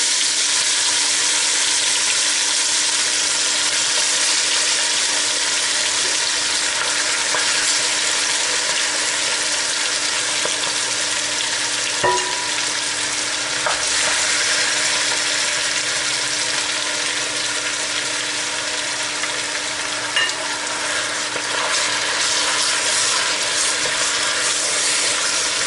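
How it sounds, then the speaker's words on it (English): Meat sears in a hot pan for curried chicken, giving a loud, steady sizzle that holds throughout, with a few faint clinks and scrapes and no talk. "Then sear the meat and"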